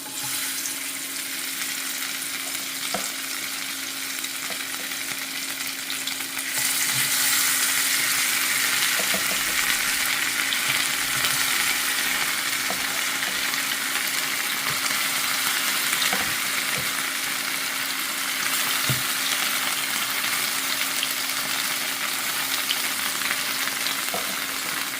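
Tempering crackling in hot oil for coconut chutney, a loud continuous sizzle that grows stronger after the first few seconds, with scattered pops and crackles throughout and no voices.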